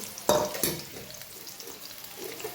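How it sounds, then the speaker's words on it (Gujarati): Chopped onion hits a hot pan for a plain sauté and sizzles with a sharp burst, then a second splash of frying a moment later. A softer, steady crackle follows. "ડુંગળી એડ કરી દઈએ"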